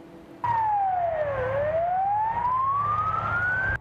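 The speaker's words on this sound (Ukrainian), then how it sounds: "із сиреною розчищають вулиці у Миколаєві" A siren on snow-clearing vehicles in Mykolaiv, Ukraine starts abruptly and sweeps down then slowly up in a long wail, loud and fairly close over a low engine rumble.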